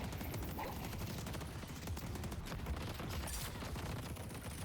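A Deadlock turret fires continuously, a quiet, distant-sounding rapid rattle of shots that runs unbroken under a dense wash of game noise.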